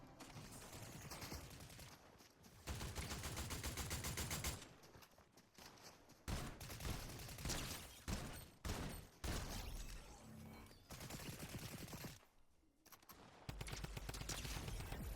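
Rapid bursts of drum gun fire in a Fortnite Blitz solo match ring out loud and near, broken by short pauses and mixed with other game sounds.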